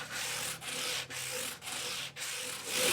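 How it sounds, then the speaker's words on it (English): A Strat guitar neck is sanded with 400-grit sandpaper stacked on a block, giving steady close rasping strokes with brief pauses between about five back-and-forth passes and no talking. "So I got the sandpaper all stacked on the scrub block."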